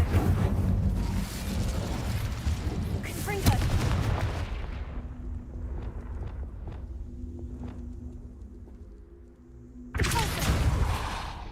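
Incendio fire spell cast in Hogwarts Legacy, a loud booming burst of flame and impact that swells for several seconds, fades into sparse ringing tones and faint steps, then surges again near the end.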